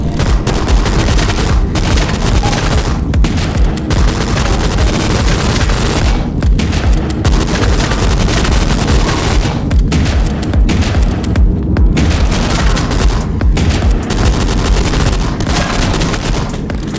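Loud, dense gunfire from the video game Shotgun Cop Man, with pistol, automatic shotgun, SMG, plasma rifle and minigun shots booming almost without pause for seventeen seconds, and occasional brief gaps between barrages.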